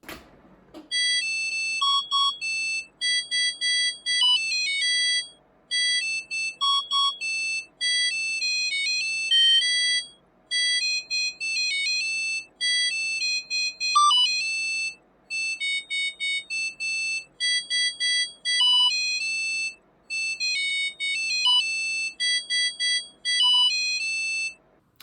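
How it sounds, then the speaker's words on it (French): A Samsung dishwasher plays its end-of-cycle melody, a long string of bright electronic beeping notes repeated in phrases with short pauses between them, alone and fairly clear for over twenty seconds. "la sonnerie à la fin du cycle de lavage, elle est ridiculement longue"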